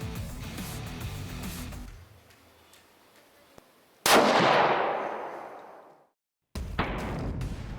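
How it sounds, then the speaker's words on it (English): A single loud rifle shot of an ELD match bullet fired into a ballistics gelatin block at 100 yards, a sharp blast with a long decaying echo rolling out, followed by a brief silence and then renewed outdoor noise. "let's fire a shot into the ballistics gelatin and see how it performs."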